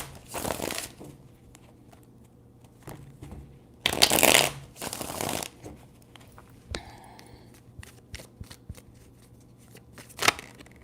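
Tarot cards shuffled by hand in several bursts of riffling and sliding, with brief pauses and soft taps between them, close and fairly quiet.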